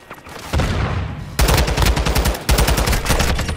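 Automatic gunfire in the Call of Duty game comes in loud, rapid bursts, with a short one, a longer sustained burst, then another after a brief pause, close and dominant with no talking.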